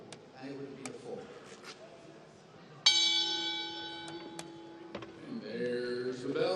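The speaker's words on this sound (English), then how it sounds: "And there's the bell." A single bell strikes to end a round at a chessboxing world championship quarter-final, ringing with a long sustained tone over crowd noise and commentary.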